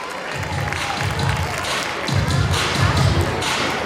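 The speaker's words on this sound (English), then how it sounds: "this is a thank you clap from the administration of Al Khaliq campus and Al Bari campus" An audience claps in thanks for the administration of the Al Khaliq and Al Bari campuses at a school gathering. The applause is a steady, dense wash of many hands, with some low thumping and crowd noise underneath.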